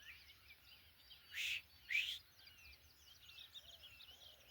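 Two short, bright bird calls ring out close together in wooded hunting country, with quieter chirps and twitters scattered faintly through the background.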